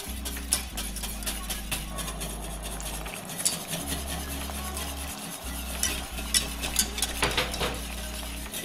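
Sweet and sour sauce bubbling steadily in a pan while starch is stirred through it, a continuous close simmer with scraping stir strokes and a low steady hum underneath.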